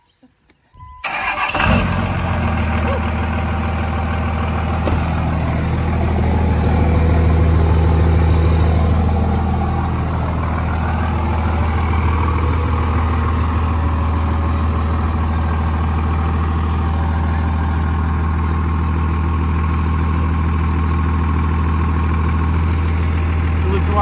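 A 2nd gen 24V Cummins diesel truck idles loudly and steadily close by after a brief start, its deep rumble continuous throughout with voices faintly mixed in.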